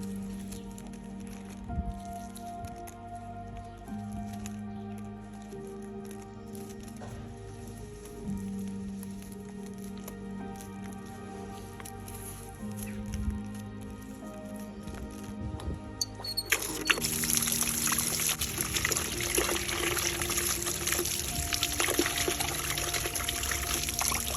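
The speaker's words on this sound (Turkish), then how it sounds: "Bütün toprağı iyice temizleyip yıkayacağım" Water runs and splashes as soil is rinsed off an orchid's rotting roots, a steady trickling and pouring that grows louder and fuller partway through, with no talking.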